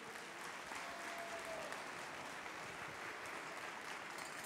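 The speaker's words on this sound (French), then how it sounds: "on les applaudit bien fort" Applause at the end of a timed cooking contest, with the crowd clapping for the competing teams in a soft, distant, continuous patter that holds steady throughout.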